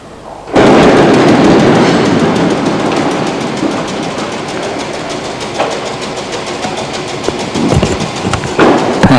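A diesel railcar on a vicinal tram line at night passes close by, a sudden loud rumble with rapid clickety-clack of wheels over rail joints, slowly easing off, with a few sharp knocks near the end.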